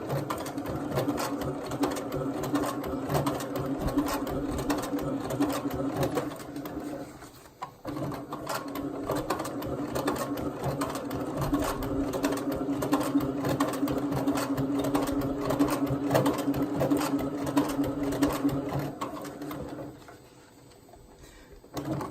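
A SEWPRO 204-2PB-DSE compound feed industrial sewing machine stitches in a steady, rapid mechanical chatter close by, running for long stretches and stopping briefly twice.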